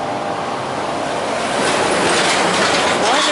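An old retro commuter train in Lisbon rolls along from inside the carriage, a loud continuous rushing rumble with rattling that swells in the second half, and no clear speech.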